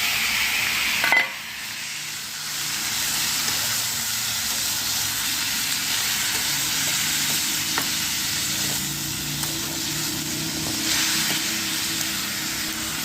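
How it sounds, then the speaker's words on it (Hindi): Chopped tomatoes go into a hot pan for shahi paneer and are stirred, giving a steady close sizzle and frying hiss after a brief clatter as they land, continuing throughout with faint scraping. "अब इसके अंदर ये कटे हुए जो टमाटर हैं इन्हें डाले देते हैं।"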